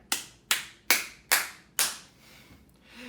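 Five sharp, separate hand claps from a single person, close and evenly spaced about every half second, mimicking fans applauding, followed by near silence.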